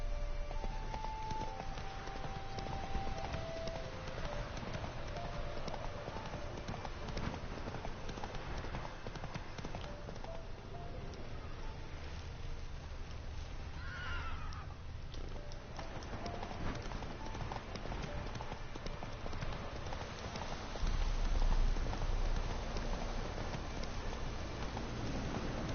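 Roach the horse in The Witcher 3, with steady clip-clop hoofbeats under a continuous noisy game background and a brief rising tone in the middle, with no clear neigh.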